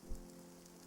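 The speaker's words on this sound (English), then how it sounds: "Hello, it looks like it's raining. That's a cool effect." Rain weather effect in the video game It Lurks Below, a soft steady hiss of falling rain with a low rumble, continuous and fairly quiet throughout.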